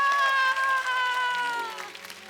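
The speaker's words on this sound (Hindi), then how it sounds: "जोरदार तालियां सोनू कक्कड़ और टोनी कक्कड़ के लिए" Audience applause on a Hindi TV comedy show stage, a moderate clapping bed beneath strong sustained musical tones, thinning out and fading in the final second.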